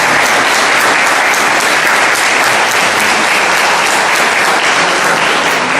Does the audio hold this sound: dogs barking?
no